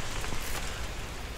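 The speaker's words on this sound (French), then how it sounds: "Ah bah il pleut." Steady rain hiss in the game The Last Plague: Blight, a dense, even wash of falling drops hitting surfaces, close and continuous with no voices for the whole short stretch.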